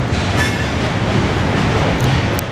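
A CN freight train rolls past on the tracks in Montreal, a steady loud rumble of wheels and cars close by with faint squeals, no voices.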